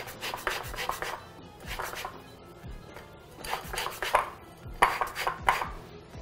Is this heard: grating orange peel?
yes